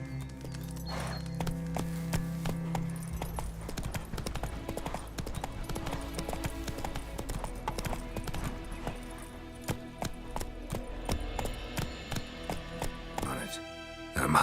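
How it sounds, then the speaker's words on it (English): Roach, Geralt's horse in the video game The Witcher 3: Wild Hunt, gallops with steady, close clip-clopping hoofbeats running beneath loud game music and voices for the whole stretch. "Run, Roach"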